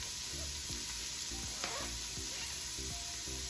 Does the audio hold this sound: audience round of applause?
no